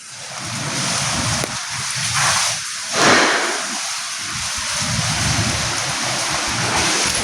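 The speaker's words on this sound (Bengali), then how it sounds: "বৃষ্টি হচ্ছে এখন" Steady rain hisses loudly and continuously, a dense wash of falling water with slight swells in intensity.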